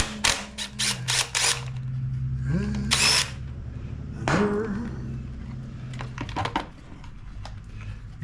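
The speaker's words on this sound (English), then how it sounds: "Get me a socket on my wrench. I always just grab the 8mm" A socket wrench works on the bolts of a Briggs and Stratton 190cc pressure washer engine after storage. Rapid ratcheting clicks come in bursts, with metallic clatter and handling noise between them, all close by.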